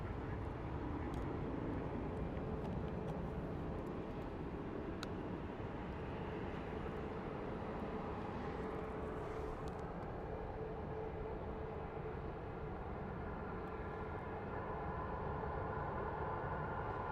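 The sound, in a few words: Frontier airplane taxiing at Phoenix Sky Harbor airport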